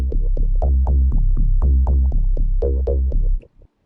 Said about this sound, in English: let's say, synth pop bass line might be nice.